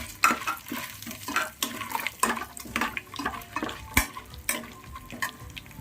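Cardamom pods, bay leaf and whole spices are stirred in a hot pan for coconut milk paneer pulao, a spoon scraping and clattering in repeated close strokes over a soft sizzle, with no talking.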